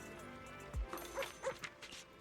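A dog barks a few short, yipping times in Zenless Zone Zero, the barks close and fairly loud over a faint background.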